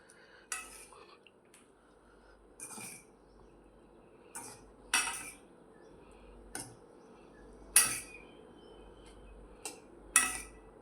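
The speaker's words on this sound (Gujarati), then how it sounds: "આને હલાવી લઈએ આપણે થોડીક વાર" Maggi noodles stirred in a pot with a metal spoon, giving about eight sharp scraping clinks at irregular intervals over quiet background, with no voices.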